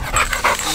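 A pit bull pants and huffs in a short, close, breathy burst, with a brief whimpery edge and no talking over it.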